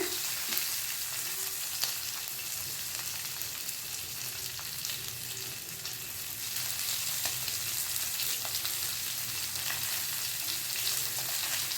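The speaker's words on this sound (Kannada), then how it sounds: "ಮೀನೆಲ್ಲ ಚೆನ್ನಾಗಿ ಫ್ರೈ ಆಗಿದೆ" Fish frying on a tawa gives a steady, dense sizzle of hot oil that holds for the whole stretch, close and fairly loud, with faint stirring touches and no voices.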